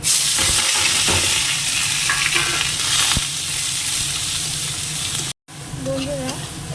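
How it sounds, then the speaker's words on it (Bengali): Onion frying in oil with bay leaf, chili and cumin for a meat curry, a loud close sizzle with scraping stirs, broken by a brief silent gap before frying resumes. "পেঁয়াজটা দিয়ে দেবো"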